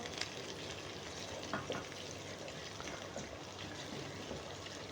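Roughly chopped green chillies fry with ginger and garlic in a pan, giving a steady close sizzle with faint stirring scrapes, and no voices.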